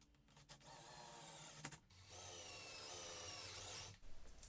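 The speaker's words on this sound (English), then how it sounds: "in each of these corners, I'm going to drill a hole" A power drill bores holes into the corners of a pond skimmer box, whirring steadily in two close, sustained bursts separated by short pauses, with no talk over it.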